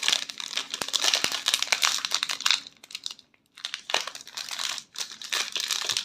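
The last pack of NBA Chronicles Rookies 2022 trading cards is torn open close up, with loud crinkling and crackling foil wrapper, sharp rips, a brief lull, then more rustling.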